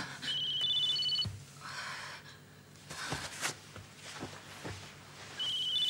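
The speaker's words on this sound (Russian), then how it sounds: "Никас, на телефон звонит." A telephone rings indoors with a repeating electronic ringtone, a short patterned trill at the start and again at the end, faint against rustling and breathing sounds.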